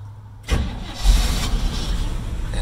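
A truck engine cold-starts after a brief crank, catching loudly and settling into a steady, close-up idle with no one talking.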